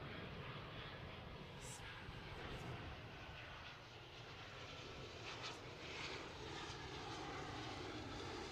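Continuous roar of the engines of an Airbus A330 airliner, flight LX146 to Delhi, at Zurich airport, a broad steady rumble that swells and eases slightly, heard from a distance and alone.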